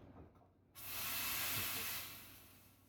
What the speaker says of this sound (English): Cleaning the steam wand.